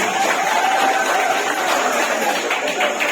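An audience at a school Language Month and Youth Pledge event applauds, a short burst of dense, steady clapping mixed with crowd murmur.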